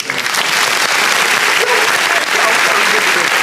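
Steady studio audience applause during a podcast taping, dense and loud from start to finish with a few voices mixed into the clapping.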